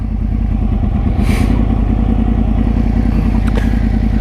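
A 2013 Yamaha R1 motorcycle with GYTR twin carbon under-seat slip-on exhausts idles loudly and steadily with a deep, throbbing exhaust note, close by and continuous throughout.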